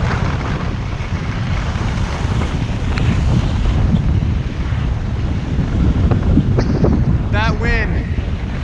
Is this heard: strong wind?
yes